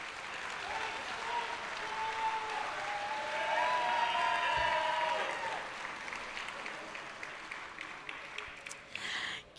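An awards ceremony audience gives a round of applause, steady and moderately loud, swelling in the middle and tapering near the end, while a few faint voices and tonal sounds drift underneath.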